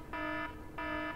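Two identical electronic alert tones from the video game Lies of P, an iPhone-like alarm chime, each about a third of a second long with a bright harmonic stack, repeating with a short gap, clear and close.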